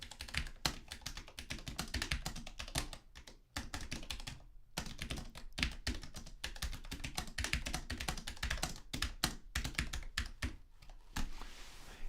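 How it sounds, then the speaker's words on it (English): Fingers type steadily on a computer keyboard, a dense, continuous patter of close, crisp key clicks with only brief pauses, and no voices. "So I don't need to be typing these things."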